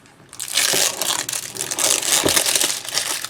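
Plastic packaging around a roll of ribbon crinkles and crackles up close, in a burst of rustling handling that keeps going with uneven bursts.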